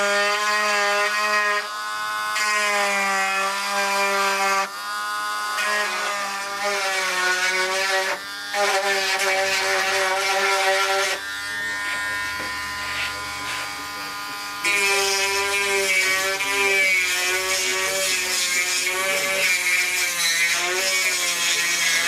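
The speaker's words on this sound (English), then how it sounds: "I'll probably go back in here and grind a little V out of here so it adds some strength" A power grinder cutting a V groove into a damaged first-generation Honda CRX fender, a loud whining tone that stops, restarts and shifts pitch as the tool bears down, steady bursts with no voices.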